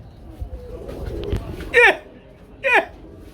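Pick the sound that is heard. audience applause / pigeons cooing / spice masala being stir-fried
pigeons cooing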